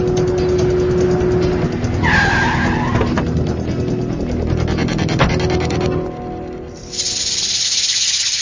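A car pulling over to the roadside with a long, loud hissing tire skid, engine noise running steadily underneath, then a brief drop before the road noise returns.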